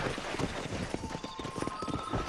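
Horse hooves galloping in Red Dead Redemption, a rapid rhythmic clip-clop of a ridden horse at speed, fairly close over a faint background bed, with a brief tonal game sound partway through.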